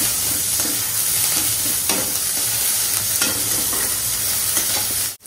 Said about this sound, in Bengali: 5 ফোড়ন দিলাম আর পেঁয়াজ আর রসুনটা কুচি করেছি